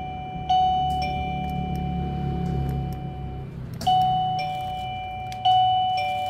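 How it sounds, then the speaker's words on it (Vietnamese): A plug-in wireless gate doorbell chimes indoors, sounding three clear electronic ding-dong tones, each ringing out and decaying, with faint ticking clicks between them. "Cái này gọi là chuông cổng các bác nhá."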